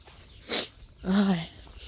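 A person sneezes once, a sharp breathy burst followed by a louder voiced cry, close by over faint background noise.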